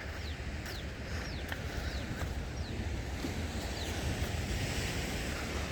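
Sea waves breaking against rocks at Pondicherry beach, with fishing boats offshore, as a steady wash of surf and wind rumble, with faint, distant high chirps running throughout.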